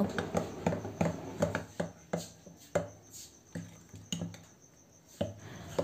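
Semolina batter with salt and baking powder stirred in a bowl for chitoi pitha, a close series of soft, uneven scraping and tapping strokes in an irregular rhythm, quiet and alone without talk.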